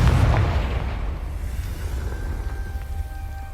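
A Confringo blasting spell explodes in the Hogwarts Legacy video game. It makes a loud, booming burst up front that rolls into a sustained rumbling roar and stays strong to the end.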